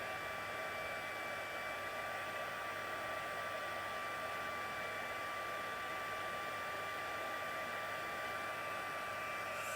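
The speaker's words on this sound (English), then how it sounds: "My heat tool just died. It's back." A heat embossing tool blows hot air in one steady, unbroken whir with a high whine on top, fairly quiet and constant, with no talking.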